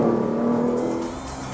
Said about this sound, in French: Le moteur se montre à la fois puissant et en régime